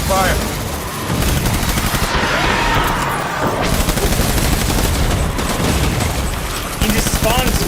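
Dense, loud gunfire from many weapons in a firefight in the video game Death Stranding, played on very hard difficulty, with sustained bursts and shots overlapping continuously throughout.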